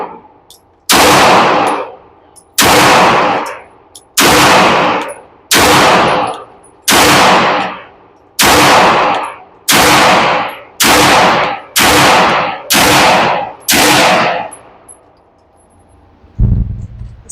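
Kimber 2K11 Eclipse pistol fired at a shooting range: about ten loud, sharp shots spaced roughly a second apart, each with a ringing tail, then a low thump at the end and no voices.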